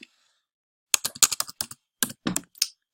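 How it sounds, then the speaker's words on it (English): Typing on a computer keyboard while composing a message, a quick run of close, crisp key clicks in two bursts after a second of silence, with no voices. "when you're typing in the center here in your message"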